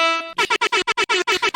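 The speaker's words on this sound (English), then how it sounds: "the air horn. I'll never get rid of it. It's amazing." A short tonal blast followed by rapid, choppy bursts of a loud horn, repeated about nine times in quick succession.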